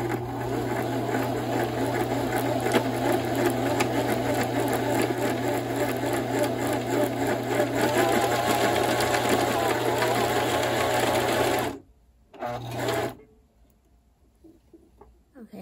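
A sewing machine runs steadily and loudly with a constant mechanical hum and rattle for about twelve seconds, then stops abruptly, starts briefly again, and falls quiet.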